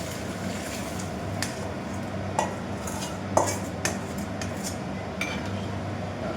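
Boiled eggs added to bubbling egg curry in a pan and stirred, a steady bubbling simmer with occasional clinks of a spoon against the pan, no talking.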